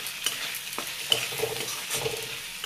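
Spices frying in a pan for a sweet potato leaf curry are stirred with a utensil, giving a few soft scraping strokes over a faint continuous sizzle, close and quiet with no talking.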